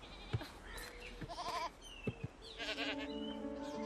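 Sheep bleat repeatedly after being struck by a car, several wavering cries overlapping in quick succession over a low background hum, fairly close.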